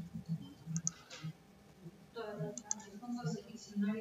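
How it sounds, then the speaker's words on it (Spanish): Mouse clicks while working in SPSS software, a few light sharp clicks scattered among quieter desk noise, with a person speaking over part of it. "Seleccionan una barra y le dan clic derecho y le dicen seleccionar esta barra."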